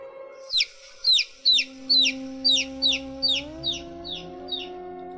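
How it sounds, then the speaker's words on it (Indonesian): A baby chick chirps in a rapid series of about ten sharp, high peeps, loud at first and fading toward the end, over a quiet background with a faint steady tone. "tiba-tiba saja terdengar suara anak ayam"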